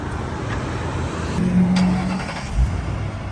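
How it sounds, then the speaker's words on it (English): A Ford Crown Victoria engine runs steadily nearby, a low continuous rumble with a brief rise and a soft thump near the end. "Even sounds like a Crown Vic."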